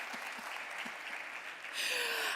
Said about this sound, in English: thank you for that round of applause. I think we need a second one for the all-female panel.